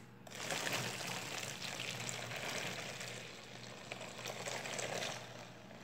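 Nearly boiled water is poured close by into a container, making a steady, continuous splashing gush that lasts about five seconds with no speech.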